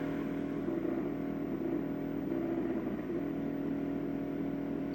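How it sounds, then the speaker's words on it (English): Crash sound effect from an Atari Le Mans arcade racing game, a steady droning engine-like rumble with gritty noise that holds at an even level throughout, with no talking. "We have crash sounds."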